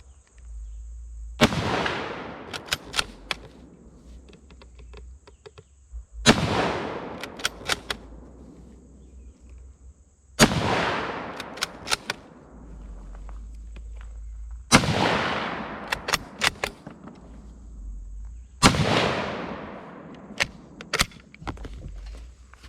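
Five loud, close gunshots from a Zastava M48 Mauser bolt-action surplus rifle firing 8mm rounds, spaced about four seconds apart, each with a sharp crack and a long rolling echo, with faint clicks between shots.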